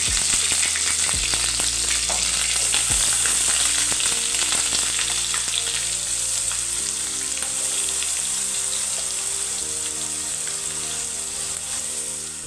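Ground spice paste (vatan) hits a hot pan for a soybean gravy curry, setting off a loud, steady sizzle that runs unbroken the whole time, with no voices.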